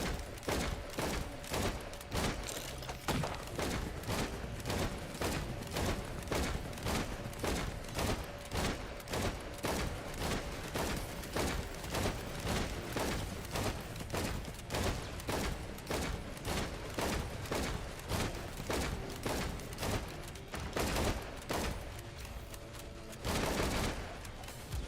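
Rapid, continuous gunfire from a character shooting in Risk of Rain 2, a loud, dense stream of evenly spaced shots with little pause across the whole stretch.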